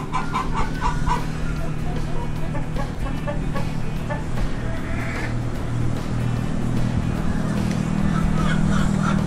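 Hens cluck in short repeated bursts over a low steady hum, with an occasional rooster-like call, fairly close and moderately loud.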